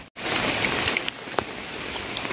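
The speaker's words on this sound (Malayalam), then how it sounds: "മഴ കേട്ടോ" Rain pours outdoors with a steady, close hiss of drops striking surfaces, starting abruptly after a brief pause and continuing evenly with a few louder pattering hits.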